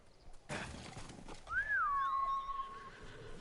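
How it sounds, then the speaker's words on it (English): A horse whinnies loudly in Ghost of Tsushima: a rising then long falling neigh follows a thud and soft hoof clatter, close and alone without talk. "Get on my horse, boy."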